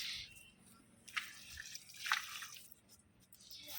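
Water from a one-litre measure poured onto potted plants, with faint splashes and drips onto the soil in a few short bursts in a quiet setting.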